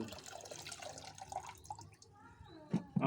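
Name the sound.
pouring soaked green-leaf fertilizer water onto plants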